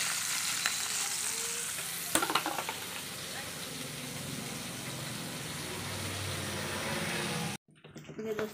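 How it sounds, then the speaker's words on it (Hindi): Dried salted fish sizzling and frying in a pan in a village kitchen, a steady close crackle with an occasional stir or clatter, before the sound cuts off abruptly near the end. "हम लोग का मछली फ्राई हो गया है सूखा वाला"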